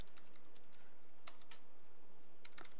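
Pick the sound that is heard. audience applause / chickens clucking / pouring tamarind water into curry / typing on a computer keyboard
typing on a computer keyboard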